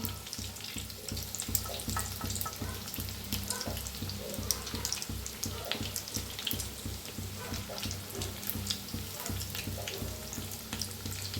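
Bread and potato balls fry in hot oil with a steady, dense sizzle and crackle that runs unbroken and fairly loud throughout, with no one talking.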